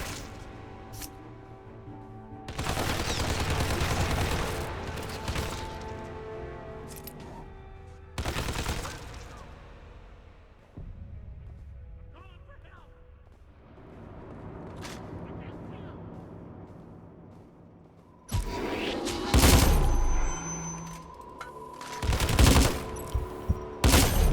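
Machine gun bursts from the Hitman Absolution video game rattle in loud stretches separated by quieter gaps, with a player talking throughout.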